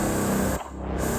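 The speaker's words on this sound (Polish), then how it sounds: "Co jak mi tu gaz puszczasz?" Gas hissing into a room in the game Get Even: a steady broadband spray-like hiss that dips briefly midway, then resumes at full strength, close and continuous with no talking.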